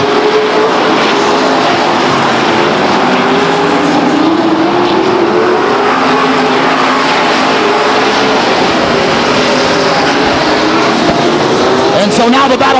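Stock cars race at Stockton 99 Speedway in a 1999 event, their engines a loud, steady roar running single file down the backstretch, with a commentator talking over the continuous noise.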